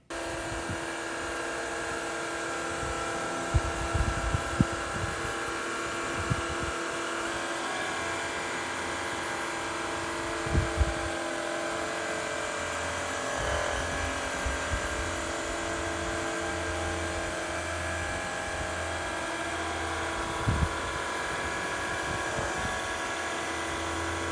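A Tineco iFloor cordless vacuum and floor washer runs with a constant close motor whine and whirring hum, punctuated by occasional knocks and bumps as it moves across the floor.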